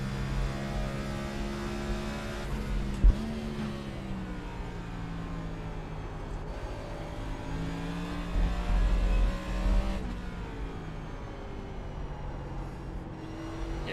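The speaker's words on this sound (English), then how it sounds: "Get on the gas, we'll purposely run the car out wide, see what the grip's like." Onboard NASCAR stock car engine lapping Watkins Glen in a racing video game, a steady loud droning roar with harmonic pitch rising and falling through gear changes and throttle lifts, a brief thump near three seconds, no talk.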